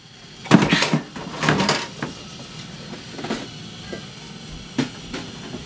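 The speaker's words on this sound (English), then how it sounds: "somebody turned on a train. Shut it off." A small toy train whirs and clatters in short bursts, nearby, with rattling clicks fading toward the end.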